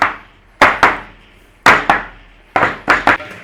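A cheesecake pie dish tapped down on a counter to settle the filling, three quick pairs of close, sharp knocks with short pauses between them.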